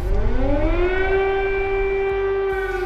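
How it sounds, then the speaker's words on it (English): Air raid sirens in Kyiv sound a loud, sustained wail that holds one steady pitch and then rises slightly. The siren sounds alone, with faint low rumble underneath. "Air raid sirens have become a daily routine."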